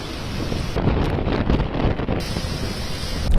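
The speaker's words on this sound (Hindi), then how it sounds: "चक्रवाती तूफान दाना की दस्तक।" Strong wind and surf as Cyclone Dana approaches the coast of Odisha and Bengal, a loud, continuous roar of gusts and crashing waves with no voices, swelling slightly toward the end.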